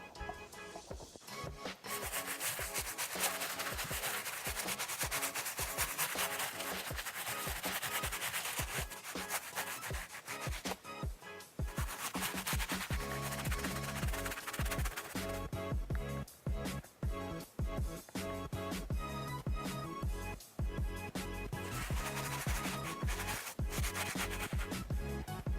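Yeezy sneaker soles scrubbed hard with a soapy brush, a loud, continuous rough rubbing that runs steadily for the whole stretch with brief pauses in the strokes.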